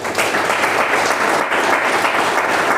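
Audience applause at a network marketing business training session, loud and sustained clapping from a crowd throughout, with no talk over it.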